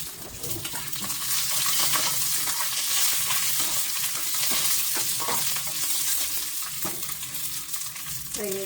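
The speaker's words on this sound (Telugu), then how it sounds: "కర్రీలు వేసుకుని బాగా ఫ్రై అవనిద్దాం" Curry leaves frying in a pan for peanut chutney, a close steady sizzle with occasional stirring scrapes and light clinks of a utensil, no voices.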